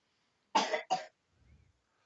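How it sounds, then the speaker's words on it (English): Two sharp coughs in quick succession, close and fairly loud, from a sick child being treated with antibiotics, followed by a faint low rustle. "that's why they're coughing so much"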